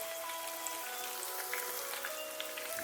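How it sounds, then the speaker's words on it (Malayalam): Dried red chillies frying in coconut oil over low heat, giving a soft, even crackle and sizzle with a few faint pops, steady and fairly quiet throughout. "നമുക്കിനി ഉണക്കമുളക് കൂടി ഇട്ട് കൊടുക്കാം."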